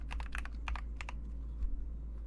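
Quiet typing on a computer keyboard while entering an ID into a signup form: a few quick bursts of key clicks, then a pause and a couple of isolated taps.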